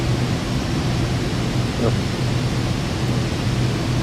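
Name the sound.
thunder during thunderstorm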